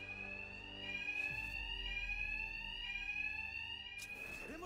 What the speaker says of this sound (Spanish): El ruido de la alarma cubrirá mis ataques.